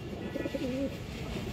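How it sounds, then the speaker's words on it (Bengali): A female khoyragola pigeon with a black tail, large in size, coos in a short rising and falling phrase, close by and moderately loud over steady background noise. "খুবই সুন্দর একটা মাদি কবুতর"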